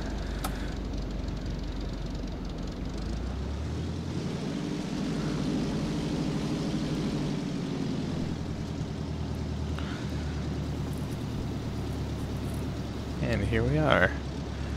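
A Piper Cub's engine drones steadily on a foggy landing approach to Glacier Park International in X-Plane 11. The hum eases and shifts in pitch partway through, and someone talks over it near the end.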